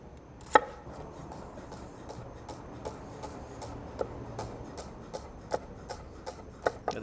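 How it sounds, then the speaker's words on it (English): A knife minces chives on a cutting board in a quiet kitchen, tapping out soft, regular chops with a few sharper strikes. "The chives we're just gonna mince."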